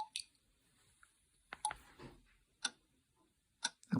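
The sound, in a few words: clock ticking sound from white noise machine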